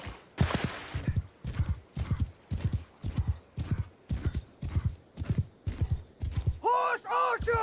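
Horse archers gallop across a boggy battlefield map in Mount & Blade 2 Bannerlord, a close, rhythmic clip-clop of hooves pounding in steady repeated strides, ending with a horse's loud whinny.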